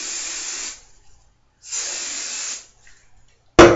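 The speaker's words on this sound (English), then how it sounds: "I'm going to want to hairspray the sides again" Hairspray hisses from an aerosol can onto the sides of a hairstyle in two close bursts of just under a second each, with a short sharp sound right at the end.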